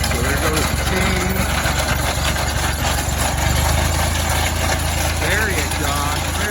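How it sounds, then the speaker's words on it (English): Tractor power takeoff drives the chain of a potato digger, a steady mechanical drone with a low engine hum and rattling chain running continuously, under voices talking. "he's turning on the power takeoff. So there goes the chain."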